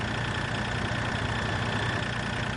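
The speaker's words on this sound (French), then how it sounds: "Ah bah le tracteur il est là" Tractor engine idling in Farming Simulator 2013, a steady, even mechanical rumble holding constant throughout with no talk over it.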